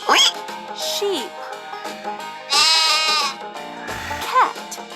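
A sheep bleats in several wavering calls over steady background music, one long loud bleat in the middle and shorter ones before and after.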